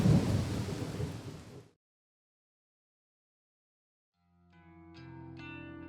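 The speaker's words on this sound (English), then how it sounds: "The rain continues to fall." Rain falling with thunder as a sound effect: a dense rumbling rain burst that cuts to silence, then a soft steady rain with faint tonal rings returns near the end.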